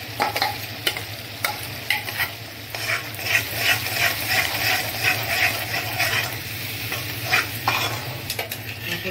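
Tilapia kalia spice paste sautéing in a pan, a steady sizzle with frequent scraping stir strokes running throughout, close and fairly loud with no voices.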